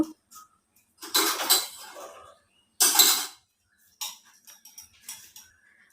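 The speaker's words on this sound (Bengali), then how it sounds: "ধুয়ে নাও চামচ আর গ্লাসটা একটু ধুয়ে নাও" A spoon and a glass are washed in a kitchen: bursts of running water splash alongside light clinks of cutlery and glassware, with quiet pauses between.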